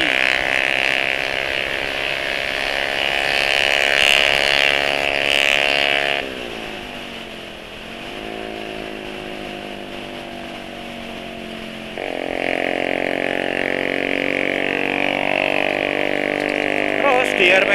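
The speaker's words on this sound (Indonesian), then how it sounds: "di kecepatan menengah, kecepatan mesin, perputaran mesin juga cukup tinggi" A car engine runs steadily at medium revs, with a strong harmonic drone that drops in pitch partway through and then rises again, loud and continuous with no one talking.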